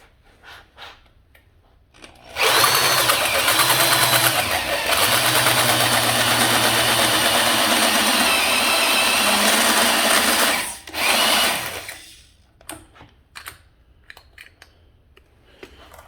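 A power drill fitted with a 1 1/8 inch hole saw cuts away a swollen lug nut cap on a Ford F150, a loud whirring grind lasting several seconds, then stopping, followed by a short burst and quiet handling clicks.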